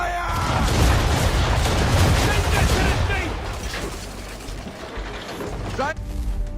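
Cannons fire from a sailing warship during a naval battle in Assassin's Creed 3, with loud, rolling booms and rumbling volleys that fade toward the end, alongside shouted voices.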